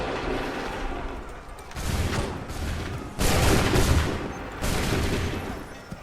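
Musket volleys crack out in Assassin's Creed III, heavy booming bursts of massed gunfire arriving in several loud waves separated by brief lulls, with little talk.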